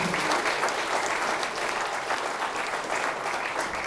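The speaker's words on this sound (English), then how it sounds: "How about another round of applause for John?" A conference audience gives a speaker a round of applause, a thick, continuous crowd clapping that holds steady at moderate loudness for the whole stretch.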